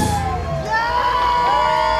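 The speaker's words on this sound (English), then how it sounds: "Everyone was shouting and cheering for her." A live audience shouts, whoops and cheers loudly for a singer after her performance, a sustained roar of crowd voices with high yells rising over it.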